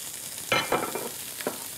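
Chopped fennel bulb tipped into a hot pan, a few soft hissing bursts of sizzle as the pieces land and settle, close and moderately loud with no talk.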